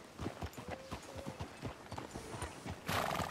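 Horse hooves clip-clop in Red Dead Redemption 2, a run of distinct, fairly close hoofbeats in an uneven walking rhythm, with a brief whinny and a louder burst of noise near the end.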